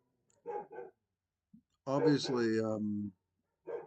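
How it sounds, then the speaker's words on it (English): A dog barks in a couple of quick bursts indoors, followed by a longer drawn-out howling whine, with someone speaking briefly before and after. "these dogs, man, they decide to bark right now"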